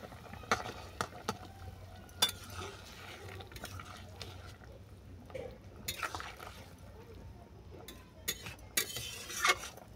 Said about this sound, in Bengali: এটাকে ভালো করে নেড়ে চেড়ে আরও 2 মিনিট রান্না করে নেব।